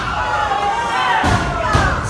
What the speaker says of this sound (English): Slams right into him for the cover.